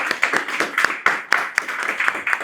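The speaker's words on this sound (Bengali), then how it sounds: "সবাই জোরে একটু হাতে তালি দিয়েন।" A group of people clap hands loudly and steadily at a batch farewell ceremony indoors, a dense run of sharp overlapping claps with no talk.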